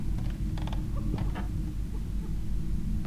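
A broken, very heavy door creaks open in a video game, a short series of grinding creaks and rattles over a dense low rumble.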